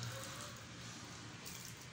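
Water splashing and running steadily while a prayer mat is washed by hand with detergent, a continuous broadband wash with no voices.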